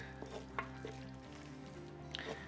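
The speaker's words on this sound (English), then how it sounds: "Nice and thick roux. Cooking away." A thick roux for gumbo cooks in a pot with softened vegetables, giving a low steady sizzle with a few soft stirring scrapes and clicks close by, and no talking.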